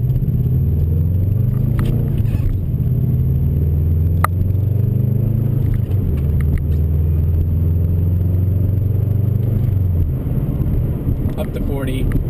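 Inside a 2004 Subaru WRX with an Invidia Q300 catback exhaust, a low droning engine rumble holds steady at moderate revs in fourth gear, windows up, with faint clicks and cabin rattles over the continuous hum.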